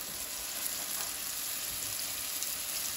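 Flour-dredged beef for a stew browns in a hot pan, a faint, steady sizzle with soft crackles and no voices over it.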